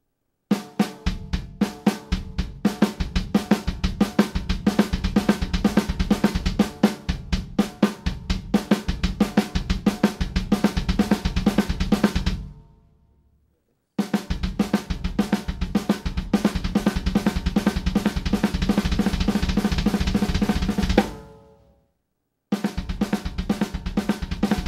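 Drum kit exercise played alone and close, pairs of hand strokes alternating with pairs of double bass drum kicks in a fast, steady, dense pattern, stopping briefly twice between sections.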